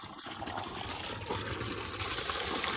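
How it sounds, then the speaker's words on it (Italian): Water from a large village fountain runs steadily into a stone washing basin used for laundry, a continuous close splashing trickle with no talk. "Guarda che razza di fontanone, Qua, lavatoio per lavare i panni."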